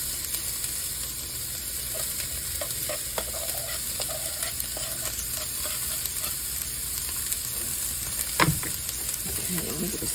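Peppers and onions sizzle and fry steadily in a hot pot for sausage and tomato rotini, with a spoon stirring and scraping now and then and one sharper clatter near the end.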